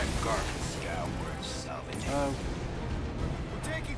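Spaceship weapons fire during a dogfight in the video game Marvel's Guardians of the Galaxy: dense, continuous booming blasts and crashes filling the whole stretch, with voices talking over the barrage.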